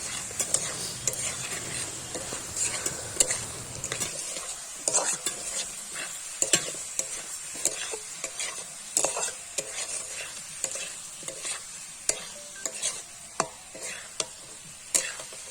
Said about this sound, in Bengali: দিয়ে আবার নাড়াচাড়া করে কিছুক্ষণ